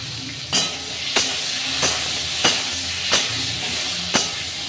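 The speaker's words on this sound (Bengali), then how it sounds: "আমি এই বেগুনগুলো নুন হলুদ মাখানো আছে বেগুনগুলোকে একটু আমি ভালো করে তেলে বেগে ভেজে নেব" Salted, turmeric-coated eggplant pieces fry in hot oil with a steady broadband sizzle, broken by about six sharp scraping stirs at a regular rhythm, close and moderately loud with no talking.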